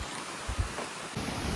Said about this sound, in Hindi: अब तेज़ हवा चलने लगी